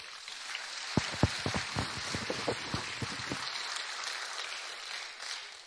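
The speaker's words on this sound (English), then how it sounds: "let's give them all a big round of applause again" Applause from a pageant audience for the winners, a dense patter of many hands clapping with a few sharper claps early on, steady and moderately loud before thinning out.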